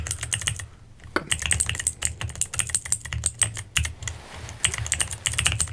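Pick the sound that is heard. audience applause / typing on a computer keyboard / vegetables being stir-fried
typing on a computer keyboard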